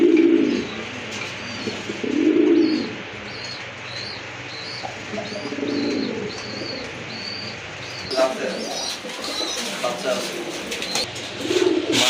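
Pigeons coo repeatedly at a busy pigeon market in Bangladesh, low throaty coos rising in bursts every couple of seconds over a steady crowd murmur, with chirps and people talking nearby.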